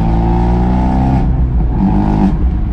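An Abarth 124 with a sport cat exhaust is driven hard, its engine roaring loud and close under steady load, with a high whistling tone riding over the raspy drone.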